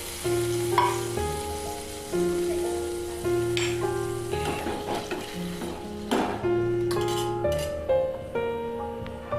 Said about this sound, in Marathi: लाल तिखट आणि आपल्याला हे शिजवलेल्या शेंगांचं पाणी टाकून चांगली फोडणी द्यायची आहे